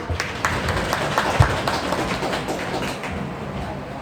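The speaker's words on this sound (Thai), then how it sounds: "ปรบมือให้สมาชิกในครอบครัวนะครับ" Applause at the annual general meeting of an amateur radio association in Sakon Nakhon, a dense, steady patter of many hands clapping together in a hall, moderately loud and sustained throughout.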